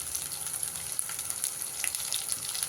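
Onion paste with turmeric sizzling steadily in a pan, a continuous close frying crackle with faint stirring scrapes and no voices.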